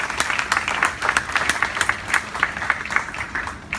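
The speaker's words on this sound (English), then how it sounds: "So please, again, a round of applause to Dr. Chu and his parents." Steady applause from a crowd, many hands clapping at once in a continuous patter without voices.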